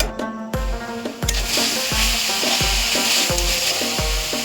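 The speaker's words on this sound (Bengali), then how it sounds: "এবার এটা ভালো করে নাড়িয়ে চাড়িয়ে দেবো।" Pitha mixture sweetened with date palm jaggery is stirred in a hot pan, a steady sizzle with repeated rhythmic scraping strokes of the spoon, close and loud.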